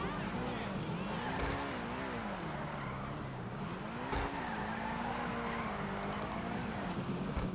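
All-wheel-drive car drifting in GTA V, engine note rising and falling over sustained tire squeal and skidding, with a sharp knock partway through and a person talking over it.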